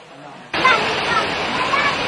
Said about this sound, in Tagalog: Ang buhos ng ulan sa barangay Poblasyon sa Uson, Masbate.